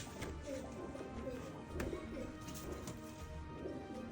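Pigeons give soft, repeated cooing calls close by, a low rhythmic burble under nearby voices talking.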